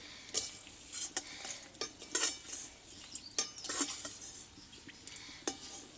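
Crisp fried nimki are lifted from hot oil in a frying pan, with repeated metallic clinks and scrapes of a utensil against the pan over a faint, steady sizzle; no one speaks.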